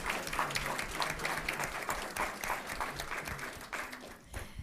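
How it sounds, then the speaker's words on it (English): Audience applause at a school district board meeting, honoring student teams; steady, moderately loud clapping from a crowd that carries on for several seconds before tapering off slightly at the end. "A big round of applause for all of our DI Global teams."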